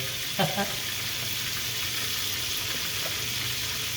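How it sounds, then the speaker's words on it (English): Swordfish frying in a pan, a steady close sizzle that continues throughout with a couple of brief clatters early on. "I'm going to fry this on each side, and so it's nice and golden brown"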